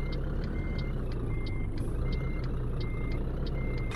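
A Scania truck reversing in a truck driving simulator game gives off a regular series of short, evenly spaced beeps over a steady, rumbling engine drone.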